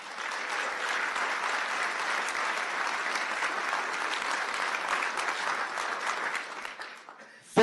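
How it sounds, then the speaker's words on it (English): Steady, full audience applause at an inauguration ceremony, sustained clapping from a large crowd for several seconds before it fades out at the end. "He deserves a round of applause"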